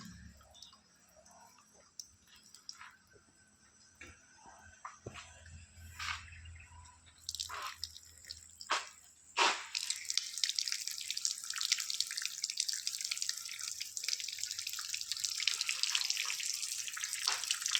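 Water runs from a tap with scattered drips and splashes at first, then settles into a continuous bright hissing stream that stays moderately loud and close until the end.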